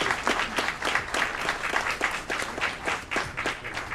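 An audience at a city committee meeting in Aurora applauds a NAMI DuPage mental health honoree, the clapping fairly soft and arriving in quick, slightly rhythmic bursts without any voices.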